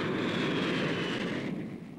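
An aircraft engine roars steadily overhead in a Meccano television advert, loud and sustained, its pitch shifting slightly as it passes and fades in the final half second.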